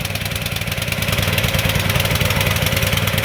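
A brand-new GN-200 196cc small gasoline engine with a loud exhaust idles up close just after starting, a rapid, pulsing chug that holds steady and grows slightly stronger.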